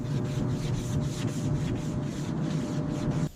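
Steady, rhythmic rasping of hand sanding body filler on a Cadillac Celestiq under restoration, short strokes repeating back and forth close by, then stopping abruptly at the end.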